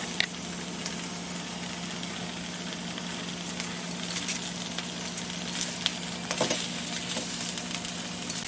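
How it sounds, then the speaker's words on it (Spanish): Bread slices browning in a frying pan with sauce give off a steady, moderate sizzle throughout, with a few brief louder crackles and stirring scrapes rising over the continuous frying hiss. "Este pan lo voy a poner a dorar porque queda más rico cuando se le agrega la salsa"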